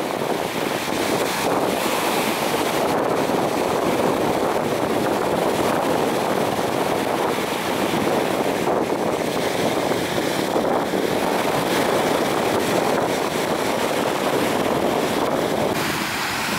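A barge of a few dozen tons out at sea, running broadside to the swell, churns through a steady, loud roar of waves and wind buffeting the microphone, with no talking.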